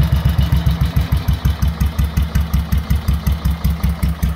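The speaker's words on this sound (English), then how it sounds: "Can you count the piston going up and down? It seems very high geared, Peter." A 1959 BSA M21 600cc single-cylinder motorcycle engine idles very slowly and loudly, with a steady, evenly spaced thump of each firing stroke close by and no other sounds.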